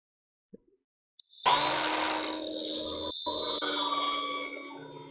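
A trim circular saw with its depth set low cuts through a gable end stud, starting abruptly after two faint clicks and running as one steady, loud whine for almost four seconds before trailing off.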